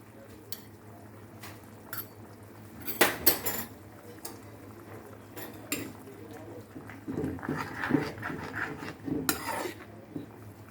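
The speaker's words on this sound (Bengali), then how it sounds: "সবার আগে আমি দিয়ে দিচ্ছি গ্রিন পিস আর ব্রকলি।" Blanched green peas and broccoli go into a pot of chicken brown stew, with clinks of a utensil against the pot and soft stirring and scraping sounds, close and moderately quiet.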